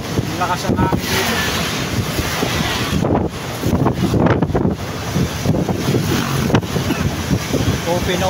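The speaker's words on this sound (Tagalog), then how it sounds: "Lakas ang hangin. Yan, nagliliparan na mga basura." Strong wind gusts across an open area in Santo Tomas, a steady loud roar with buffeting bursts and short dropouts throughout; no flying trash is distinguishable in the rush.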